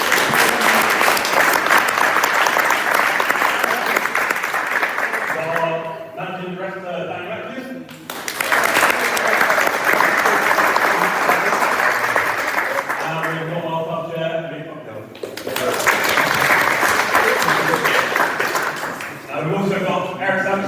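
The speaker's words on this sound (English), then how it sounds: "please give him a round of applause" A pub crowd gives manager Johnnie Jackson a loud, sustained round of applause in bursts separated by short lulls, with voices heard in the gaps between the clapping.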